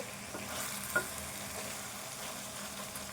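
Ridge gourd and soya chunk curry fries in a pan, giving a faint steady sizzle with soft stirring and one brief clink.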